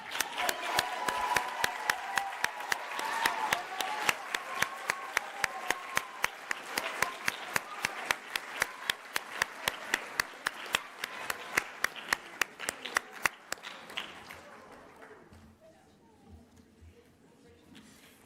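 Audience of parents applauding strings majors at an 8th grade promotion ceremony at Charleston County School of the Arts, steady crowd clapping with sharp individual claps, fading out toward the end.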